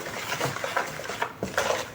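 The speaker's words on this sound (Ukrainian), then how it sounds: "І цукор перемішую." A spoon stirs sugar in a bowl for Easter bread dough, with a steady run of light scraping and clinking against the bowl, close up and with no talking.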